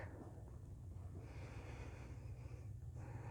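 A yoga instructor sniffling and breathing in cold air, soft close snorts and breaths over a faint windy hiss.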